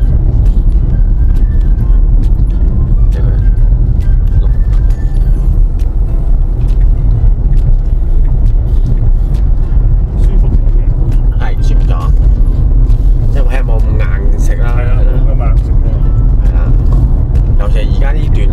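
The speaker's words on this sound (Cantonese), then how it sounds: "一路直上就可以試埋啲碎震嘅路，行好多凹凹凸凸嘅碎震嘅路" A Tesla Model Y fitted with KONI Special Active shock absorbers rolls over a rough, bumpy road, a loud continuous cabin rumble with small jolts, while people inside talk throughout.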